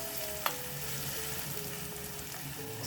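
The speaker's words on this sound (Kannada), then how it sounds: "ನೋಡಿ ಎಣ್ಣೆ ಚೆನ್ನಾಗಿ ಕಾದಿರೋದ್ರಿಂದ ತುಂಬಾ ಚೆನ್ನಾಗಿ ಒಗ್ಗರಣೆ ಆಗಿದೆ" Garlic tempering in well-heated oil for sambar, a soft steady sizzle and crackle with a single sharp clink near the start, fairly quiet and uninterrupted by voices.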